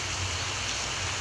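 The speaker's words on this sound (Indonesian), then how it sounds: "Hujan pun turun" Steady rain falls during a fishing trip at a riverside spot in Jember, a continuous, even hiss of drops with no one speaking.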